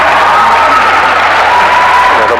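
A loud, dense crowd roars and cheers without a break at an indoor volleyball match, Ateneo against Lyceum in a V-League third-place game, with the wash of voices filling the hall.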